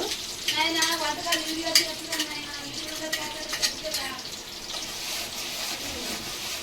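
Crab curry frying in a pan, a steady soft sizzle with faint scraping and stirring running through, close and moderately quiet, with no talking.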